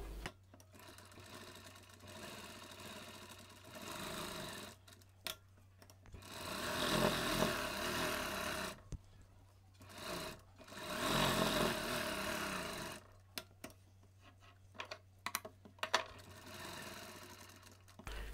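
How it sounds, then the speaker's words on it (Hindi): A sewing machine stitches a blouse in a tailoring lesson. It runs in bursts of rapid mechanical whirring with short pauses, and there are clicks and handling sounds between the runs. It is moderately quiet and close, with no talking. "ये देखिए सिलाई लगा रहा हूँ"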